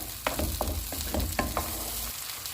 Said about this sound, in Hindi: अब इसे हम 2 मिनट तक और फ्राई कर लेंगे